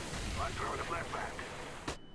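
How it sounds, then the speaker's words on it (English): A flashbang grenade in a video game goes off in one sharp, loud burst near the end, leaving a muffled hush with a thin, steady ringing tone after a stretch of noisy in-game background. "I'm throwing the flashbang."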